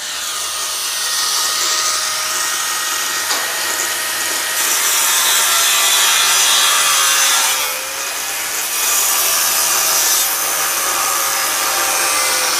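A saw grinds steadily through a sandwich panel during canopy manufacture for an oxygen plant, a loud, harsh, continuous cutting roar heard up close with a brief dip in pitch midway, alone without talk.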